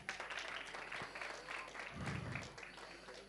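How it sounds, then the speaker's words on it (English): A room of attendees at a South African Chefs Association annual general meeting applauds the new board, soft sustained clapping heard at a distance with a faint voice passing underneath. "Let's have a big round of applause for them."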